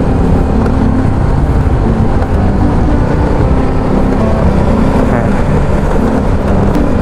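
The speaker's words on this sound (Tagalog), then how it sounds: "Testing natin yung wind noise" Inside a pearl white Gille GTS V1 helmet on a moving motorcycle, wind roars as a loud, steady broadband rush mixed with engine and road rumble, constant from start to finish with no pauses.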